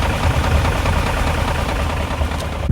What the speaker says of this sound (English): that knocking noise. It kind of sounds like from the engine bay.